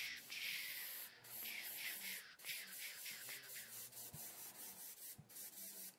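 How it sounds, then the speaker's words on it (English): Close, soft hissing of an airbrush test-spraying thinned paint for Shatterpoint terrain, a continuous airy spray with small pulses and a few clicks and taps, faint overall. "Check my spray really quick."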